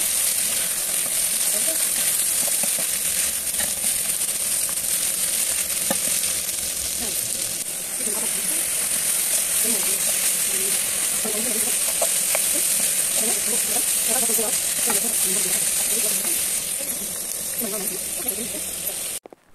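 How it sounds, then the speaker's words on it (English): Chopped onions fry with boiled chicken in a pan once the boiling water has cooked off, giving a loud, steady, close sizzle and crackle that runs the whole time. "let it fry for a while."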